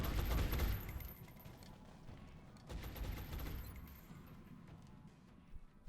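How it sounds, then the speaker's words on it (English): Sustained suppressing gunfire in XCOM Long War, a dense burst of automatic shots loudest at the start, easing into a steady rattling fusillade with a second surge midway, no voices over it. "Suppressing fire."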